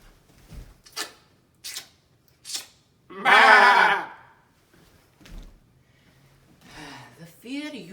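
A voice mimics sheep bleating in a few short wavering calls, with one longer drawn-out bleat in the middle, close and clear, separated by breathy pauses and scattered soft noises.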